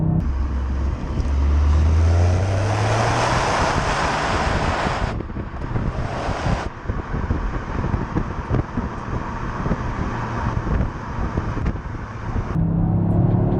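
Inside the cabin of a Toyota GR Yaris on the move, a steady engine drone blends with road roar and wind rush, with a rising pitch sweep early on and a shift in tone midway, no talking.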